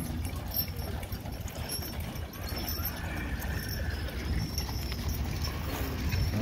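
Horses clip-clopping along a parade route near Fredericktown, steady overlapping hoof beats under a constant outdoor crowd murmur, with faint voices in the background.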